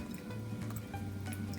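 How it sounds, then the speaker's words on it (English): Water drains from wet paper pulp through a small screen, a close, steady trickle with small drips throughout, with no voices. "I'm gonna use my little screen here and get some of the water out."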